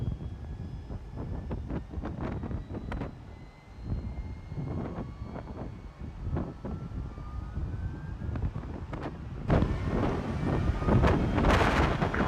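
Gusty wind noise buffets a simulated EasyJet airliner in X-Plane 12, a low rumbling roar with repeated thumping gusts and a faint whining tone that swells louder near the end.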